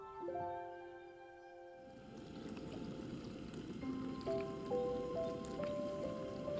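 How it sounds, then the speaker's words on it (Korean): Broth is poured into a bulgogi hot pot, making a soft, steady liquid splash and gurgle that begins after a quiet moment and continues to the end under gentle background music. "육수를 붓고 센 불에서 5분간 끓여줍니다."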